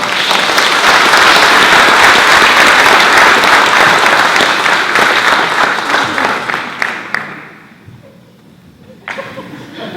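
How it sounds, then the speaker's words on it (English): An audience at a San Jose Japantown book launch gives loud, dense applause that keeps going for about seven seconds and then thins out to a few scattered claps and quiet room noise. "Please give a round of applause for Jim NAGAREDA."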